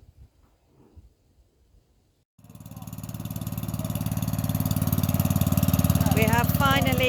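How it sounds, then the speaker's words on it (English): After a quiet start, a repaired lawn mower's small engine starts and runs steadily nearby, its rapid putter building in loudness and holding a constant idle. "I've finally got the lawnmower working."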